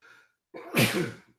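One loud, close sneeze with a quick intake of breath before the explosive burst, otherwise quiet.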